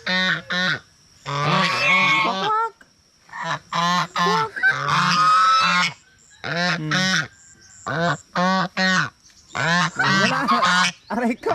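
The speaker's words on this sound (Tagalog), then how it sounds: "ipakita ko naman sa inyo ang aking alaga, ang dalawang gansa." Two geese honk loudly and repeatedly at close range, their harsh calls coming in quick bursts with short pauses between.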